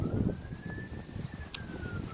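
Faint fire truck and ambulance sirens wail in the distance outdoors, rising and falling slowly under gusty wind noise buffeting the microphone.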